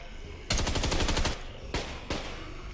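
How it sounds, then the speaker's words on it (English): Automatic gunfire in a zombie video game: a sustained rapid burst of shots lasting nearly a second, followed by two separate single shots, loud over a busy game background. "I'm just shooting the other zombies near you"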